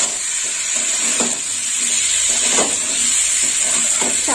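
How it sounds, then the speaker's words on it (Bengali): Chickpeas stir-fried in a pan, giving a steady close sizzle with a bright hiss and soft scraping stirs recurring every second or so, no voices. "ছোলা দেওয়ার পর কষে নেব।"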